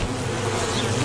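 Bees buzz at a hive in a dense, continuous drone, close and loud throughout with no speech.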